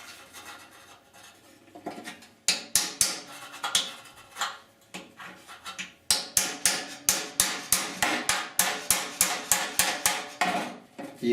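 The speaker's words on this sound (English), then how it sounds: "This is a small, narrow chisel." A small, narrow chisel hammered against the severely rusted core support of a 1969 C10 truck, sharp metallic strikes in quick rhythmic bursts, sparse at first and then a dense, steady series, close and loud.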